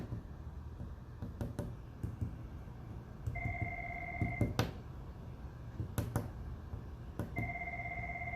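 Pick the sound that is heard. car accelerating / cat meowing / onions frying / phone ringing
phone ringing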